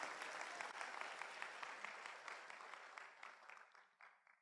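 Audience at a motivational seminar claps together, a dense burst of applause that is steady at first and then gradually thins and fades out over several seconds, heard at a moderate distance.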